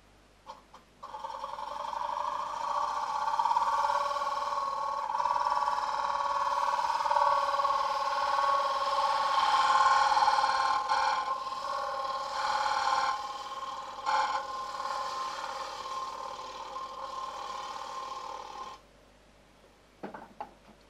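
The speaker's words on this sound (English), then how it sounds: "I'll just take that ridge out with the bowl gouge" A bowl gouge cuts a wooden bowl spinning on a lathe, giving a steady tonal scraping whir that runs continuously for most of the span before stopping abruptly near the end.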